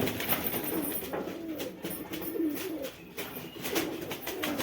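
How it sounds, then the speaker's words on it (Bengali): Pigeons coo steadily inside a home loft, low rounded calls repeating in overlapping waves close by, with a soft rustle of wings and movement throughout. "আজকে আমার পুরো পায়রা সব দেখাবো, আর কী কী পায়রা আছে অবশ্যই তোমাদের কাছে দেখাবো।"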